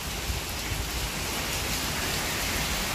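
Heavy rain pours steadily and close, a constant dense hiss of drops drumming on surfaces with no break.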